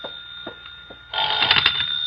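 A telephone rings with a loud, bright electric bell burst that starts halfway through, after a few quiet knocks and a faint steady tone. The sound is close and stands alone with no voices.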